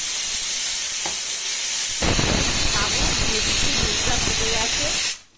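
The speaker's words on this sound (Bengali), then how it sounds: "উবাল এসে গেছে দুধে" Milk coming to a rolling boil in a pot for sabudana payesh, a strong continuous hiss with bubbling surges and pops that builds after the first two seconds, then cuts off abruptly.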